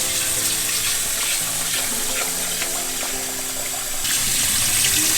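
Tap water runs steadily and fairly loud into a sink or bowl while rice is washed, a continuous splashing gush with no talking.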